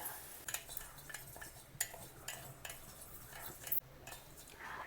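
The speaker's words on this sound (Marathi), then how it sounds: "तो परतून घ्यायचा आहे म्हणजे भाजून घ्यायचा आहे" Light scraping and clinking of a spoon stirring carom seeds in a dry pan over low heat, with quiet intermittent taps, close by and soft.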